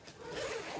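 Zipper on a handmade ladies' purse drawn open in one quick, close rasping pull lasting under a second, alone with no voices.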